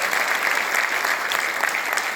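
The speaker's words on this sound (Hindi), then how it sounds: "तो मैंने तो जोरदार के लिए जोरदार ताली बजा दीजिए।" An audience at a law minister's motivational meeting bursts into loud, steady applause, a dense wash of clapping with no talk over it.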